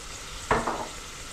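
Onions frying in a pan as garlic-ginger paste goes in, for a turnip and spinach sabzi: steady low sizzle with one brief louder crackling hiss midway, close and alone.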